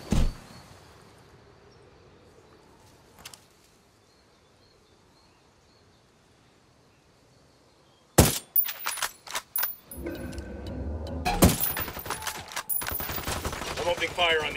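Gunfire erupts in a Ghost Recon Wildlands firefight, with loud, dense bursts and rapid shots after a quiet stretch, continuing steadily to the end. Game sounds sit underneath, with no clear talk.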